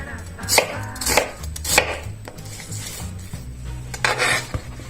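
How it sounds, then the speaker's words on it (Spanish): A knife chops onion on a cutting board for a beef stew with corn and vegetables, a few sharp, close chops standing out above a steady low kitchen hum. "Y ahora vamos a cortar la cebolla"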